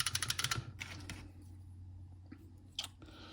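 Keys on an IBM PC/XT Model 5160 keyboard being pressed during refurbishment, a quick burst of sharp clicks at the start followed by a few scattered, isolated clacks in a quiet room.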